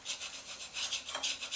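A scraper rasps carbon buildup off a lawn mower cylinder head, a quiet rhythmic series of close scratchy strokes repeating back and forth with no talking.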